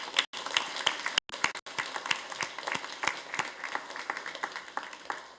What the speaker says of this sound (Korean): 우리 수험생 9명과 또 우리 교구 총무단에게 감사의 박수 보내드리겠습니다.